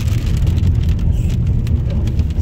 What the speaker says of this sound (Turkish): Biz gelince yağmur yağıyor.